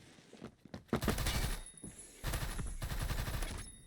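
Rapid bursts of battle rifle fire from the RM with a muffler-like attachment in the Phantom Forces shooter game, two long sustained volleys separated by a short pause, loud and close.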